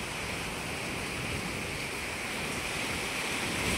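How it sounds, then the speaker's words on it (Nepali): Heavy rain pours down over a Nepali hillside village, a steady, dense, unbroken hiss that stays loud and even throughout, with no voices. "यहाँनिर चाहिँ पानी परिरहेको छ"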